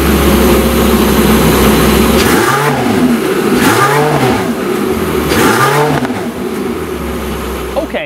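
A warmed-up Porsche 918 Spyder hybrid supercar fires its engine and sends three sharp revs rising and falling over a loud, steady idle, close to the car.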